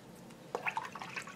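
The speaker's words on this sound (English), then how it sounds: "Rinse my brush off." A watercolor paintbrush swished and tapped in a cup of water, giving a short burst of soft, close liquid sloshes and drips after a quiet pause.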